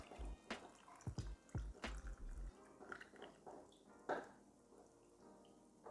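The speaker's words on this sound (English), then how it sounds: "And I'm just pouring the brine back in." Brine poured back into a jar packed with strawberry, habanero and long pepper hot sauce ingredients, a series of close, soft liquid drips, splashes and gurgles, irregular and quiet.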